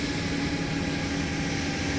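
A UH-60M Blackhawk helicopter sits with its engines throttled back to idle in the X-Plane 12 flight simulator, giving a steady, even turbine whine and rotor hum with a sustained tonal drone and no speech.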